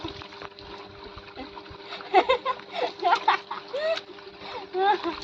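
Water splashes and sloshes as a bucket is filled in a village, with irregular close bursts of splashing and trickling while people talk over it.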